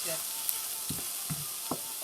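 Peppers and shiitake mushrooms stir frying in a pan, a steady hiss of sizzling with a few soft scraping stirs, at moderate level.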